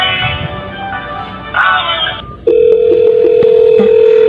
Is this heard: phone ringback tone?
yes